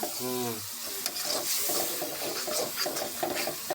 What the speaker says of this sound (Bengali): হলুদ মরিচ লবণ মশলা গরম মশলা তেজপাত সব তো দিলা কষাচ্ছে মশলা